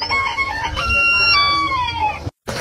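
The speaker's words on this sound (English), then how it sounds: "that's Reginald, our rooster, up on the housetop" A rooster perched on a house roof on a country homestead crows loudly and close by, one drawn-out call with a rising then falling tail that cuts off abruptly.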